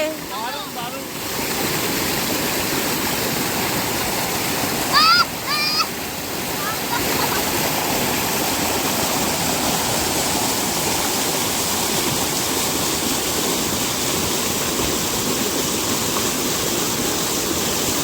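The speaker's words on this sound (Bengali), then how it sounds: "আমরা জোনা ফলসে চলে এসেছি" Jonha Falls, a waterfall near Ranchi, roars as a steady broadband rush of falling water close by, continuous and loud throughout, with brief voices and a splash of activity audible over it near the start and middle.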